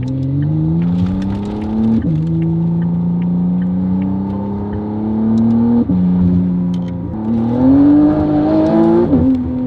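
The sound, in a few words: McLaren Artura with Valvetronic Designs race exhaust, turbo spool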